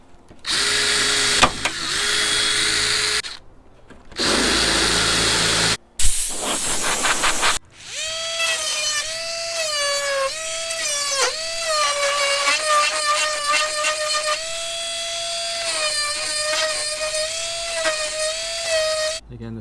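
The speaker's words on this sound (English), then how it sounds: "I need to drill out this hole just there, allowing me to bolt through and hold it" A drill bores a hole in an Alfa Romeo GTV 2000 door during a steel-to-carbon door conversion, with several short whirring bursts and then a long, sustained high-pitched whine up close.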